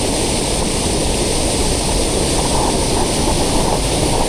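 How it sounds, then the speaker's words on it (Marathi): Swollen stream in heavy monsoon rain in the Konkan countryside, rushing loud and steady with a dense broadband roar throughout, no voices. "पाण्याचा प्रवाह बघितलात का, भरपूर आहे, तुफान."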